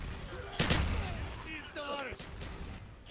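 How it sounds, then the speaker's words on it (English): Gunfire in the video game Call of Duty: Black Ops, a sharp loud shot burst followed by scattered shots under overlapping chatter from players. "No, stop shooting me."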